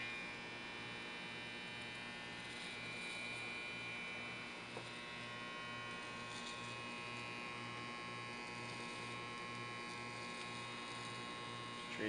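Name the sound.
electric hair clipper buzzing while cutting hair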